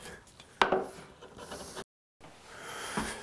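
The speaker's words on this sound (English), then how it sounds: "left hand planing." A hand plane is pushed along wood for a bedside table drawer, giving a couple of short, close, scraping shaves with a brief pause between them, quiet and with no talk.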